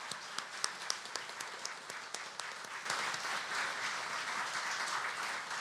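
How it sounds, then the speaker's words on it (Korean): Church congregation clapping at a Christmas service, sharp individual claps at first that swell into fuller, steady applause, moderately distant and filling the room. "우리 한 번 더 하나님께 우리 영광의 박수 올려드리겠습니다."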